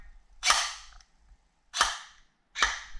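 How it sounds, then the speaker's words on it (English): An airsoft M4 pattern rifle fires three sharp, crisp semi-automatic shots, spaced about a second apart and each followed by a short fading tail. "so every time you pull the trigger, a shot fires"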